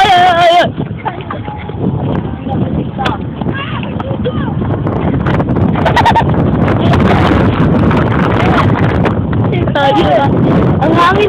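Heavy wind buffets the microphone in a constant loud rumble while people talk over it.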